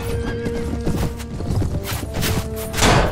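Horse hooves clip-clop steadily while a horse neighs during a medieval battle in Mount & Blade: Warband, with clangs and thuds of combat mixed into the dense, continuous din.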